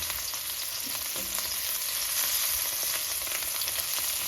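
Mushrooms fry in a pan with a steady, dense sizzle that holds at an even level throughout, crackling lightly with no voices present.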